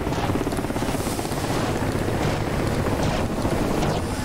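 Mi-8 helicopter in the DCS combat flight simulator, a steady loud rotor and turbine drone with continuous rumbling thrum and wind-like roar throughout, no talking.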